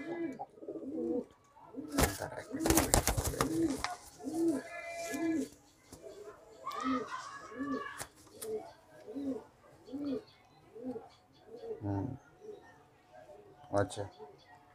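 Kalanka male pigeons coo in a steady, rhythmic series of low, pulsing calls, close and clear, with a loud rustling burst of wing flapping early on and human voices in the background.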